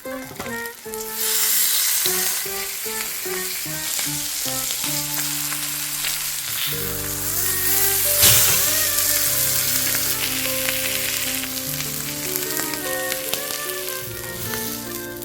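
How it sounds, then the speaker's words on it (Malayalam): Turned pieces of fish keep frying in oil, a dense close sizzle beneath melodic background music throughout. "മറിച്ചിട്ട് വറുത്തുകൊണ്ടിരിക്കുകയാണ്"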